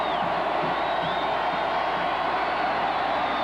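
A dense, steady roar from a football stadium crowd cheering at a 1988 Bills home playoff game against the Oilers, loud and continuous throughout with no clear breaks.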